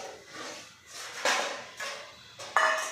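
Peeled beetroot is rubbed against a small grater, giving a few short scraping bursts spaced irregularly, close and fairly quiet with no voice over them.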